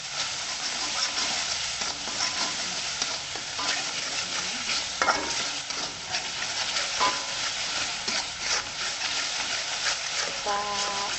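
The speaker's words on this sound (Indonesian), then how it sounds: "Kita tumis sampai matang." Noni and papaya leaves, seasoned with broth, are stir-fried in a pan, giving a steady sizzle broken by repeated scraping stirs, with someone talking over it now and then.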